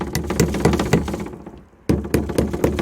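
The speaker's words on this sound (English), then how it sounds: "What we'll do is knock those flat." Hammer blows knock staples flat on a polytunnel frame during an allotment build, a quick run of sharp, close knocks in an uneven rhythm that stops briefly and then resumes in a fresh burst.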